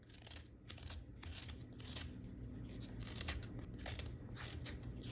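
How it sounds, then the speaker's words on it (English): A spoon scrapes the skin off a piece of ginger in quiet, rhythmic rasping strokes, repeated about a dozen times at close range. "So I just take a spoon, peel the skin off, and makes it so much easier to peel off."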